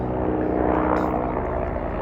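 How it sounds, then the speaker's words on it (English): A helicopter passing overhead gives a continuous, dense rotor and engine rumble that stays loud and steady throughout. "It's like there's a helicopter go by."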